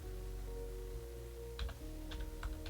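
Keystrokes on a computer keyboard during a tabletop role-playing game session of Ryuutama, a few scattered clicks and short bursts over a steady low hum, fairly faint and without talk.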